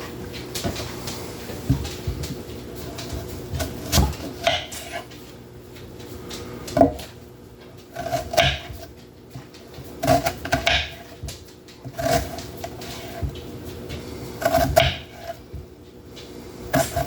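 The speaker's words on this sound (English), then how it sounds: "So I'm gonna go ahead and get started on cutting these up. Start on the onions first." A knife chops onions on a cutting board in a home kitchen, giving irregular clusters of sharp taps with short pauses between, close and fairly clear, with no talking.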